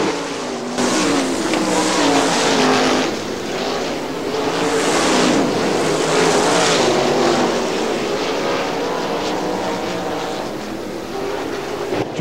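410 sprint cars race at Butler Motor Speedway in Quincy in an Interstate Racing Association event, a loud, continuous roar of several engines that swells and fades as the cars pass around the track.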